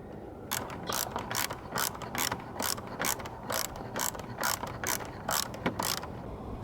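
Ratchet snugging up the exhaust bolts on a scooter, a close, rapid series of sharp, evenly spaced clicking strokes, about a dozen in a row and heard alone.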